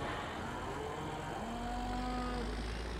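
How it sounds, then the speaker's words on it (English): Cows moo steadily in the Farming Simulator 2017 video game, with drawn-out, overlapping bellows that carry on through the whole stretch over a constant farmyard ambience, without any talk. "the cows are just constant."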